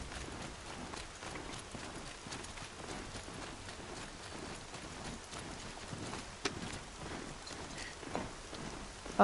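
Steady rain and horse hooves in the video game Horizon Zero Dawn, a soft continuous hiss of rainfall with faint rhythmic clip-clopping footfalls underneath, all fairly quiet.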